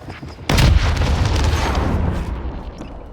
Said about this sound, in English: I hear somebody shooting something